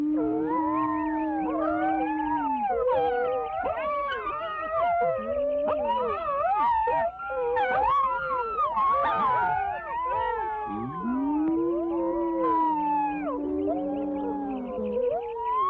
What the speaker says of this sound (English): Let's make them howl.